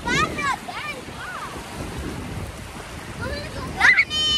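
Steady surf and wind wash across the scene while people chatter and shout nearby, with a high-pitched voice rising near the end.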